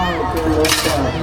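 Metal dishes and utensils clatter and clink up close during langar dish-washing service at Anandpur Sahib, a brief busy burst with voices talking over it.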